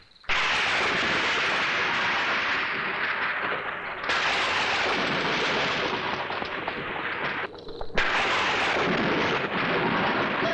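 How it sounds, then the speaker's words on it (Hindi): Heavy thunderstorm with loud, sustained rumbling thunder in three long rolling waves, broadband and close, with no voices. "लगता है भयंकर तूफान आने वाला है।"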